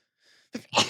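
A single sneeze, a short sharp inhale followed by an explosive burst, close to the microphone.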